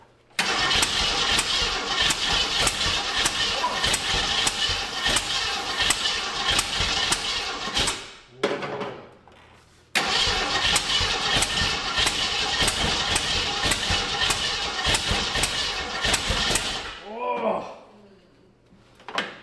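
A Jeep Grand Wagoneer engine, seized after sitting for years, cranks repeatedly without catching, two long whirring attempts separated by a brief pause, loud and close.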